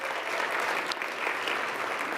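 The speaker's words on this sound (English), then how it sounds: "let's give one more applause to Minister" A conference audience at a climate-plan event applauds a minister with a dense, steady wash of clapping that holds at an even level throughout.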